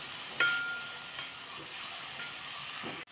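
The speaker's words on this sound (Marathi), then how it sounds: "त्याच्यानंतर मी हा 1 चिरलेला टोमॅटो घालते। आपण कांदा मऊ पडेपर्यंत हे परतून घेऊया।" Chopped tomato and onion sautéing in a pan on the stove: a steady low sizzle and faint stirring scrapes, with one louder clatter near the start, close and without talk.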